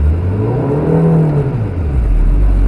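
A manual-transmission car revs up with a learner driver on the gas. The engine hums loud and close, its pitch sweeping up and back down, and then it settles into a deep low drone with no talking.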